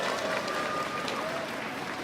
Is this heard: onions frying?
no